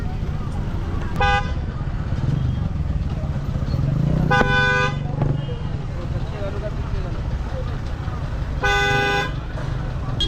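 At a busy May market in the Konkan, a vehicle horn honks three separate times over rumbling traffic and motorcycle engines, while people talk nearby.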